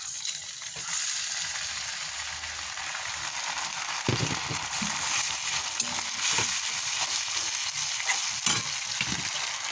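Spice paste fries in a pan with lightly browned onions, giving a steady, close sizzle with stirring scrapes throughout.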